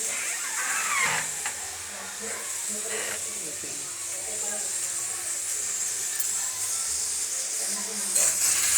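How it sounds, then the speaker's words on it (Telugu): Rasam boiling in a pot on the stove, giving a steady soft hiss and bubbling that holds at an even level throughout, with a few brief clatters near the start. "రసం మరుగుతుందండి."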